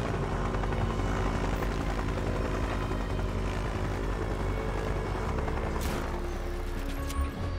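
Helicopter in Just Cause 3, loud and constant rotor drone filling the whole stretch with game noise behind it, no talk.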